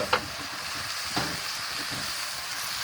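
Pork and ginger tossed together in a hot pan give a steady broadband sizzle, with a few brief scraping stir strokes rising above it; no voices.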